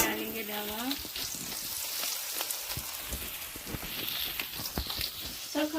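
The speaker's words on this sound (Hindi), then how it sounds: "अब इसके अंदर डालेंगे रवा।" Semolina (rava) tipped into a pan of cooked vegetables for upma sets off a steady, close sizzle and frying crackle, with a voice talking briefly near the start and end.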